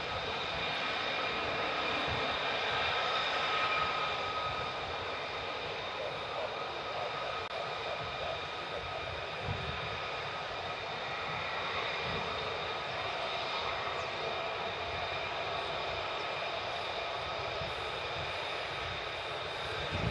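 Military jets flying past at RAF Lakenheath, a steady broad engine roar holding loud and sustained throughout, with faint talk now and then underneath.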